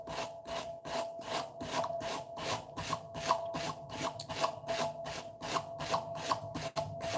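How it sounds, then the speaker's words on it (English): A blade edge is being re-bevelled by hand, with steady, rhythmic rasping strokes about twice a second, close and even, with no talk. "I am cutting this edge again, beveling this blade again"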